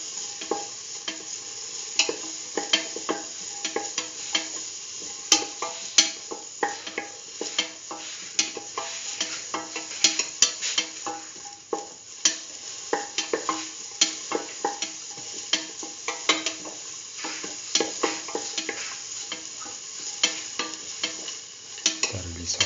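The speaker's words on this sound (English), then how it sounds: "Thoroughly saute and mix." Potato chayote rice sautéing in a pan, a soft continuous sizzle with frequent scraping and clinking spatula strokes as it is stirred, close and steady throughout with no talking.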